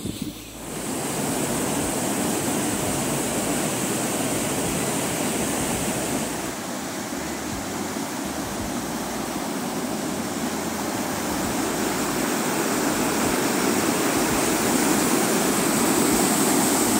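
Water of a mountain gorge stream on the Garganta de Cuartos route near Losar de la Vera, Cáceres, Spain, rushes in a steady, loud, continuous roar with no talk over it.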